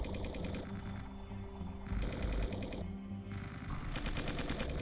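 Gunfire in the real-time strategy game Original War, rapid bursts of automatic weapon fire in several rattling volleys separated by brief gaps, loud and close.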